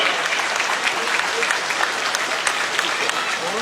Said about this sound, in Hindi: आप सभी से जोरदार तालियों से विदा करें।